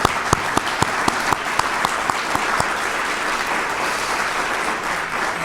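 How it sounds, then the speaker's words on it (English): Loud, steady applause from a crowd at a recognition dinner, with sharp individual claps standing out at the start and the clapping holding strong throughout. "Let's give a big round of applause to Priscilla"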